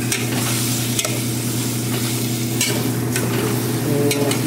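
Chicken pieces for tinola stirred in a hot pan, a loud close sizzle with a low hum underneath and a few sharp utensil scrapes against the pan.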